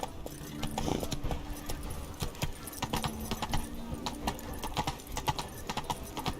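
The horse Roach's hooves clip-clop at a walking pace in The Witcher video game, a close, steady rhythm of hoof strikes with jingling tack and light background ambience.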